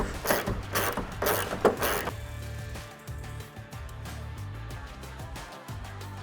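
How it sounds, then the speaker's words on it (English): A 10mm ratchet tightens the rear wing bolts on a C8 Corvette, Verus Engineering UCW wing install: rapid close ratcheting clicks in bursts, then quieter mechanical clicking alone. "Now we're going to grab our 10mm ratchet and 4mm Allen"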